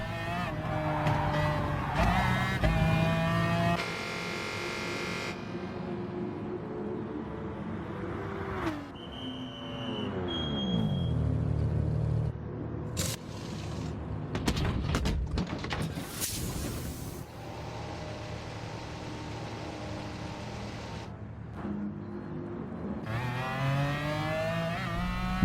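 A Gulf McLaren F1 GTR race car in Gran Turismo Sport pulls out of the pits at the Red Bull Ring, its engine rising and falling through gear changes with brief tire squeals and passing cars in between.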